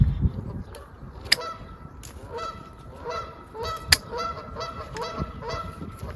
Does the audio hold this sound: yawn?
no